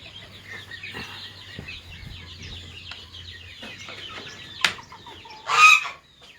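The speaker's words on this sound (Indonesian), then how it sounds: "Ada 15 ekor bebek" Fifteen ducks kept in a pen quack and chatter softly in a low, scattered background. A sharp single call rises briefly, then a louder burst of squawking near the end.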